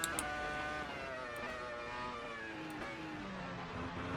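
A V10 racing car engine in a racing video game screams at high revs, a sustained harmonic wail that rises and dips slightly as it shifts, loud and close with no talking.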